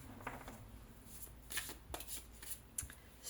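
Oracle cards are shuffled by hand, a soft and fairly faint riffle and slide with a few sharper flicks repeating over a few seconds in a quiet room.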